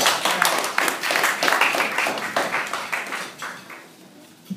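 A small outdoor or hall audience applauding to welcome a speaker at a vegan feast, many hands clapping steadily at moderate loudness, then thinning and fading toward the end.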